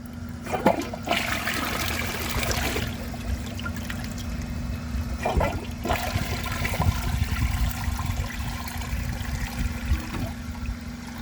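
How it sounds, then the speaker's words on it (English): A 2001 Vortens Vienna toilet flushing up close, a loud rushing gurgle of water that surges and draws down over about ten seconds, with trickling as it refills. "so let's give it another flush"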